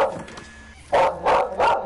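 A dog barks three times in quick succession, close and loud, the short even barks following a brief quiet gap.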